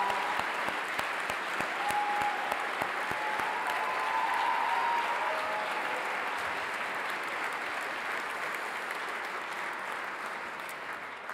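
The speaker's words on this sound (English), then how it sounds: "Let's give them an incredible round of applause too." An audience at a college dedication ceremony gives a long, steady round of applause for the school's team, a thick wash of clapping that holds level and then eases slightly toward the end.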